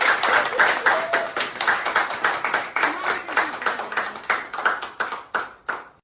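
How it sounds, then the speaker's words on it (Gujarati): Several people clap their hands at a casual family gathering in a Gujarati village, a dense run of sharp, fairly close claps over about six seconds, tapering off at the end, with voices mixed in. "તાળી પાડજો"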